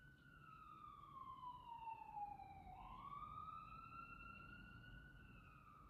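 An emergency siren wails past at moderate distance, its pitch sweeping down and then rising again as the vehicle goes by, steady and continuous over low background rumble with no talking.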